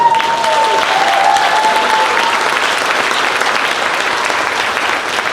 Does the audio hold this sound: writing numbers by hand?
no